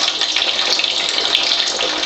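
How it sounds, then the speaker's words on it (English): Water ionizer running at level 3, pouring a steady, loud stream of alkaline water into a pink cup, a continuous close gushing splash with no talk. "All 3 ionizers are pouring at level 3 right now."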